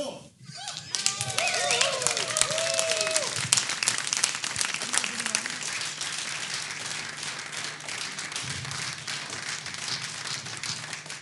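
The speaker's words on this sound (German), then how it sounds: "bitte sparen Sie Ihren Beifall für all diejenigen, die noch kommen" Audience at a live stage show in Gera applauding, a dense, steady wash of clapping that fills the whole stretch with a few brighter shouts or whistles near the start.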